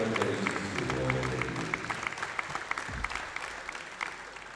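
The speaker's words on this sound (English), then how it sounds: "Round of applause, congratulations to all of" Spectators at a world classic powerlifting championship applaud, a broad wash of clapping that starts under a speaking voice and thins into scattered individual claps as it fades.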